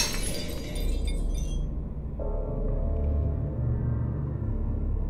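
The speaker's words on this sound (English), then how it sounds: "Can you break the case glass for me while I lay the chains out?" Glass display case shattering in a post-apocalyptic video game, a bright crash and scatter of shards up front that quickly falls away into low rumbling, with a steady tone entering partway through.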